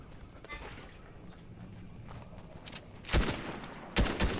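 Gunfire in the Fortnite video game: after a quieter stretch of background game noise, two sharp, loud bursts of shots crack out in close succession near the end.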